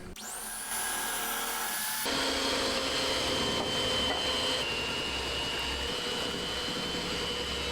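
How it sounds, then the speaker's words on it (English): An electric mixer whirs steadily at close range as eggs are beaten into cheesecake batter, a continuous motor drone that speeds up after a soft start and holds at an even pitch. "Now beat in the eggs one at a time."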